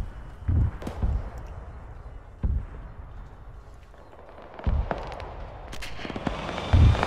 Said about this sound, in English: Sounds like it was the SPG-9 car's rockets cooking off.